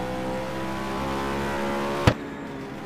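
A BMW race car of the NR Corse team, GT World Series qualifying at Portimão, drones past with a steady harmonic engine note, ending in a sharp loud transient near the end before fading.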